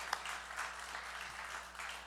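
A church congregation applauds to bless an engaged couple during Sunday worship, a soft, steady wash of distant clapping with no talk over it.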